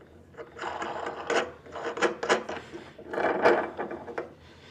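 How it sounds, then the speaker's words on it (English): A floor spike is threaded onto a loudspeaker with a series of close, scraping metallic twists in uneven bursts, with no talking. "And then we will thread our floor spike."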